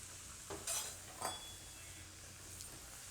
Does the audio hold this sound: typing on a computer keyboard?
no